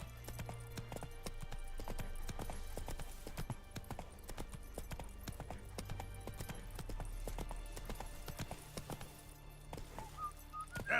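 Roach, the horse in The Witcher 3 video game, gallops in a steady, rapid clip-clop of hooves that runs for the whole stretch, close and fairly loud over a soft low game ambience.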